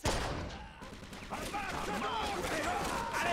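Gunfire rattles in the Mafia 2 video game during a military sandbag battle, repeated bursts of shots and impacts over a busy background, with people talking throughout.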